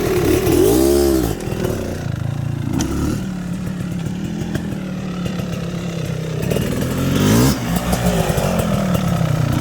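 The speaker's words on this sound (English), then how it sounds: "do a couple figure eights with low in the power band, so you hear what it's doing" A tuned 2023 GasGas 500 BRC motorcycle chugging low in the power band through figure eights in a parking lot, loud and close, with a deep uneven engine thump and brief rising revs.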